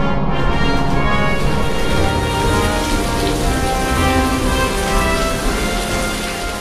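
Heavy forest rain pours down at Ba Na in Vietnam, a dense, loud, steady hiss of water with a low rumble underneath that eases slightly toward the end.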